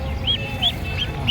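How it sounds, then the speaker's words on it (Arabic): Ducks for sale at a poultry market quack in four short, evenly spaced calls, moderately close over a low background murmur. "طب امسك لنا بطة كده ولا بطتين"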